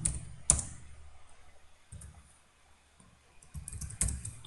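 Computer keyboard typing while Java code is entered, sparse bursts of key clicks with a couple of sharper taps and quiet pauses between them, close and fairly soft.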